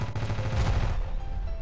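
The upper machine gun on a helicopter in the game Ravenfield fires a loud, dense burst of rapid shots that fades away toward the end.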